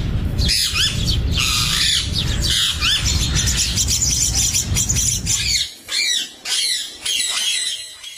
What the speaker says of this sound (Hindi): फाख्ता, बुलबुल, चिड़िया, इस तरह के बहुत सारे परिंदे आते हैं।